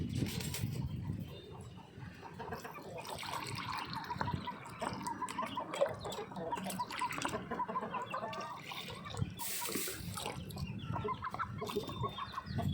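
Country chickens cluck and murmur steadily at close range while their drinking water is changed, with splashing and pouring and scattered scuffling among the birds.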